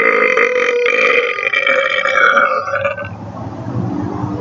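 A single long, loud, close burp rolls on for several seconds, rumbling and then tapering into a lower gurgling tail.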